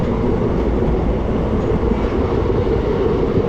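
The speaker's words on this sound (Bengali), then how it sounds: "আর ট্রেন মোটামুটি ছুটতে শুরু করে দিয়েছে।" A passenger train on the Haldibari–Bamunhat line picking up speed, a loud continuous low rumble and roar of the carriage in motion, heard from inside the train without talk.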